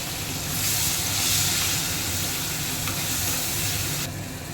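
Tomato, salt, nigella seeds and spices sizzling hard in hot oil for a sea-fish curry, a loud, continuous frying hiss that holds steady and then eases slightly near the end.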